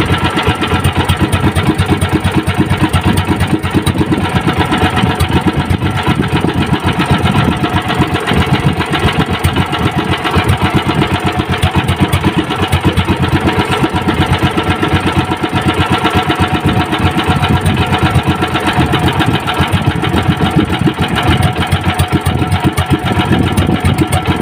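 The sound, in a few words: engine running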